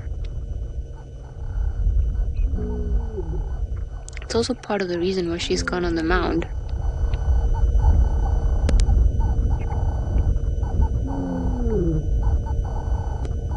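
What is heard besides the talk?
lioness roaring, soft contact call to find pride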